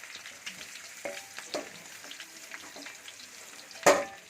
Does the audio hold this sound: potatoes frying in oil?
yes